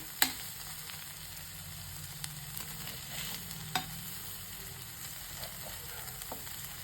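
Paneer ghee roast cooks in masala and ghee in a pan, giving a steady low sizzle with occasional soft scrapes and stirring taps, close and fairly quiet, with no talking.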